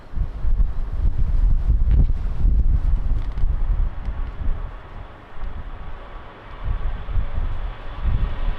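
Strong gusty wind buffets the microphone at Lisbon Airport, a loud, rumbling low roar that swells and eases in waves with no voices.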